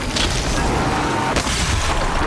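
A missile blast from the video game Horizon Zero Dawn, part of The Frozen Wilds, booms as a loud, dense rumble that fills the whole stretch, with a sharper burst near the middle.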